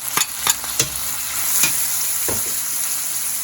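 Chopped ginger and garlic sizzling in a hot pan for black pepper crab, with several sharp stirring scrapes over a steady frying hiss, close up and without talk.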